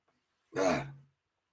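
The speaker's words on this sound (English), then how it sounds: "I gotta blow my nose again" A single short, breathy nasal burst lasting about half a second, close to the microphone, with quiet around it.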